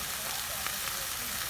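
Stuffed turkey meatloaf filling sizzles steadily in a hot sauté pan, a soft continuous fry hiss with faint stirring scrapes and no one speaking.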